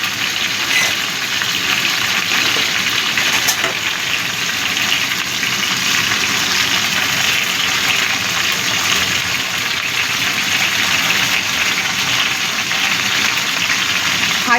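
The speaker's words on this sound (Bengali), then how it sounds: "হাই ফ্লেমে ঝিঙেটা ভাজবো।" Ridge gourd frying on high flame, a continuous broad sizzle and hiss from the pan that stays steady and fairly loud throughout, with a brief clink near the start.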